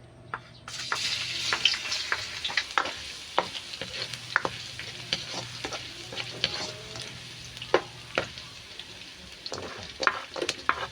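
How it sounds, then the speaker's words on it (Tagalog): Onion, garlic and ginger tossed into hot oil and stirred, a sudden loud sizzle followed by steady frying hiss punctuated by scraping and clinking of a utensil in the pan, close and without talk. "Ito din yung mga sibuyas, bawang, luya. Mainit na yung mantika, ilalagay na natin."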